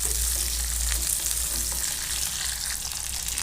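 Steady, crackling sizzle of curry leaves, chilies and shallots frying in hot oil, close up, with a few faint stirring clicks and no talking.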